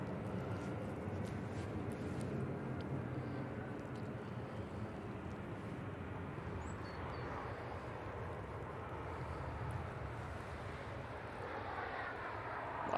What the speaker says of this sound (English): 737-800 coming in from Dublin.